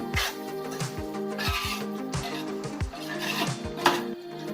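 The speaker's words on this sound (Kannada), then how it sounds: "ನಾನು ಪ್ಲೇಟ್ ತೆಗಿತಿದ್ದೀನಿ" A metal plate lid is lifted off a cooking pot of village-style chicken liver and gizzard rice, giving a run of close, loud clattering metallic scrapes and clinks in quick succession with no talk.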